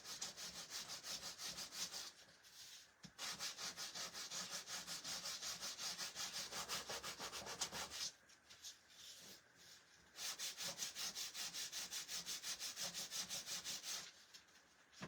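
A small handheld sander works over wood in long steady bursts, a buzzing rasp that stops briefly around two and eight seconds before resuming, close and alone.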